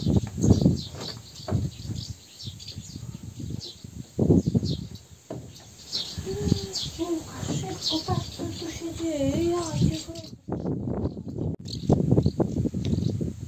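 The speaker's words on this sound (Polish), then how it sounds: "O, jakie ptaki tu latają." Birds chirp along a riverside trail by the Oder, with a run of bright, quick tweets in the middle against steady outdoor background noise.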